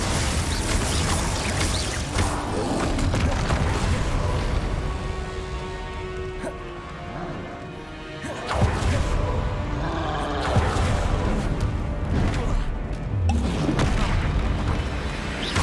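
Repeated magical blasts and booming impacts of spells cast in combat in Hogwarts Legacy, loud and continuous with bursts throughout, including a sharp hit about midway.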